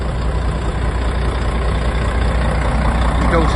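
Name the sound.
2005 Volvo B12B Jonckheere Mistral coach engine idling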